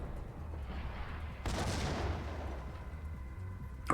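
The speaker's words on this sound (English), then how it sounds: "Ah! Grenade!" Grenade detonating in the Max Payne shooter game, a sudden loud burst that swells into a rumbling, decaying roar over quiet background, followed by a sharp crack at the end.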